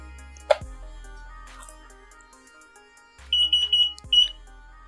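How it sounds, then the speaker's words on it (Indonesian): An Arduino-based flood detector's buzzer, powered from a 12-volt adapter, gives a short run of sharp, high electronic beeps at start-up. The beeps are close and clear over near silence, with soft clicks before them. "dia akan berbunyi bip. Ada bip 3 kali."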